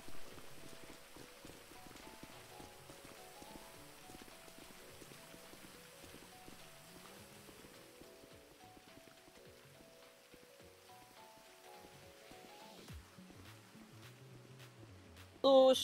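Steady rain patters across a Grand Theft Auto roleplay scene, a soft constant hiss running throughout beneath talking voices and game sounds, with a louder burst at the very end.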